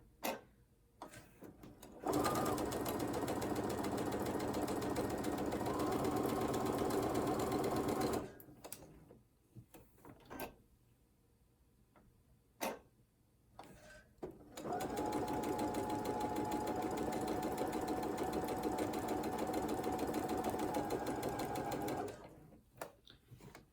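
A sewing machine stitching quilt blocks runs in two long, steady bursts of fast rhythmic whirring, close and loud, separated by a quiet pause with small handling clicks.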